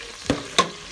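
Pinakbet vegetables stirred in a pan: two distinct spoon-against-pan clanks about a third of a second apart over a faint low sizzle, close and with no voices.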